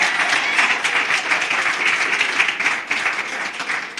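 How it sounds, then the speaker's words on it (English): An audience at a Nelson Mandela Day commemoration applauds, giving steady, loud clapping that lasts throughout. "Clap for me."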